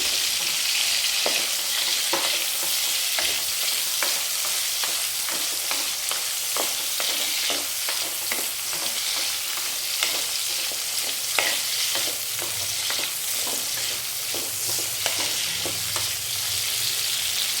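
Eggplant pieces fry lightly in a pan for a Godavari-style brinjal and dried fish curry, a constant bright crackling sizzle punctuated by rhythmic stirring scrapes, close and unbroken with no voices.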